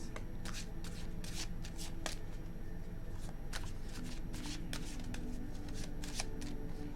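Tarot cards are shuffled steadily, with a string of crisp riffling bursts and soft flicks repeating close up and no voices.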